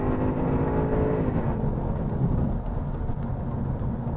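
Jaguar Project 8 road car's V8 driven hard on a race track, a loud, continuous bellowing engine roar whose revs shift and settle, heard alone without talk.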